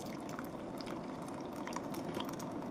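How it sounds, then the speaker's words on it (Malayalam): Boiled beetroot and carrot water is poured into a bowl, making a faint, steady liquid trickle that runs evenly for under three seconds without any talk. "അതൊരു ബൗളിലേക്ക് ഒഴിച്ചു കൊടുക്കുകയാണ് ഞാൻ."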